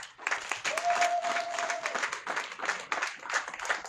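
A church congregation applauds and cheers in praise during a Catholic service, with a steady wash of clapping and voices at moderate distance from start to finish.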